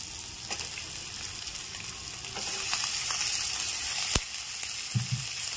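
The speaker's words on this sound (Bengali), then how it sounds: "এবার এর মধ্যে আমি দিয়ে দেবো এই দেখো মাছের তেল" Fish oil sizzles and fries in a pan with green chillies, producing a continuous crackling hiss with a few sharp pops and light clinks of stirring.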